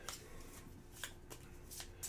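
Cards shuffled by hand during a Stars of Akarios tabletop game, a series of quick riffling bursts close up, with quiet room noise between them.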